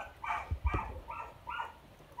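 Vafla, a pet dog, makes a few soft, close whimpering yips and snuffles in a quiet room, four short muffled sounds spaced apart.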